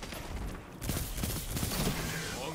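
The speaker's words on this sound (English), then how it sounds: "Ooh, he's got a fusion rifle." A Destiny fusion rifle fires in dense, busy bursts amid constant game noise during a Trials of Osiris match, loud and cluttered throughout the clip.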